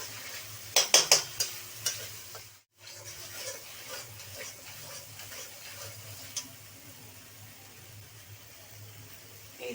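Poppy seed paste stirred into a pan of frying pointed gourd korma: a few sharp spoon clacks against the pan early on, then a soft continuous sizzle with occasional scraping stirs.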